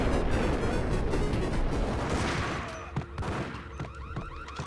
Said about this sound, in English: at least they upgraded the alarm sound